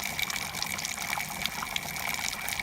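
Beer wort for a pale ale pours into a fermenting cube, a steady close gushing and splashing of liquid with bright bubbling trickles running continuously throughout.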